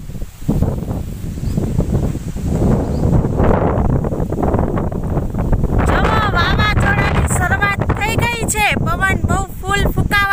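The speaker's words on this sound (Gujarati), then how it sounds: "બહુ જ ફૂલ પવન આવે છે." Strong cyclone winds roar steadily through swaying coconut palms on a farm in Kutch, with continuous gusting and rustling and heavy buffeting on the microphone. A person speaks over the wind.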